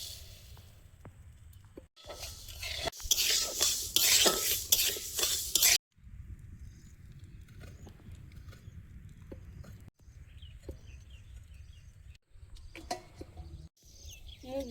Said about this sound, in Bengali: ডালটা আগে ভেজে নেব